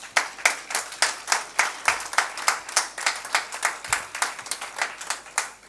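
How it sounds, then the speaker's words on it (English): Rhythmic clapping from a small group at the TECHgium 2024 finale, with evenly spaced, fairly close claps that carry on steadily without voices. "So big round of applause for both the two."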